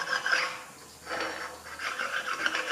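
A sharpening stone rubs back and forth across the burred table of a grinding machine, making harsh, gritty rasping strokes in a steady rhythm, close and fairly loud, with no talking.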